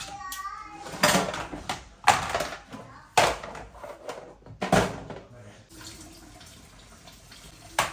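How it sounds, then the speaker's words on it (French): Water runs from a tap as children wash their hands at home after school, with bursts of splashing and gushing flow while a voice talks over it. "Et ils passent aussi au lavage de mains obligatoire après être rentrés de l'école."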